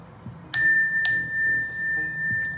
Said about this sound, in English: I didn't ring the bell for you if I didn't. Well, not the bell, they're really rods